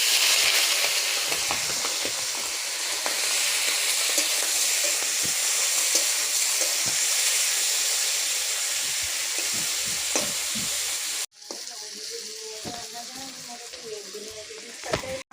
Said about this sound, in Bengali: কড়াইতে তেলটা গরম হয়ে এসছে। এবার এগুলো মাছগুলোকে ভেজে নেব।